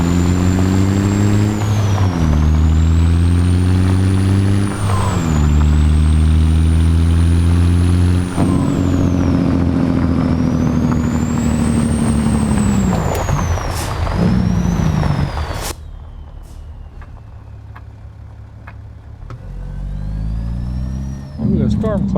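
A modded truck engine in American Truck Simulator revs through repeated rising gear pulls with a loud, deep drone and whine, then drops to a quieter idle with a hiss before building again.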